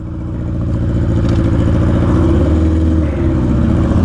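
A Yamaha R6 motorcycle engine with no exhaust revs hard and close, with a raw, unmuffled roar that rises and holds steady for several seconds.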